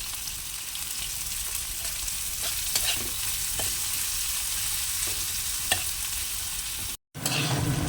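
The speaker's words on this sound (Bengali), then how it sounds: "পেঁয়াজটা ভাজা হয়ে গেছে দিয়ে দেবো আদা বাটা এক চামচ আর রসুন আর লঙ্কা বাটা এক চামচ" Sliced onion sizzles in hot oil in a pan, a steady crackling fry broken by scraping stirs of a spoon at irregular intervals, close and moderately loud with no voices.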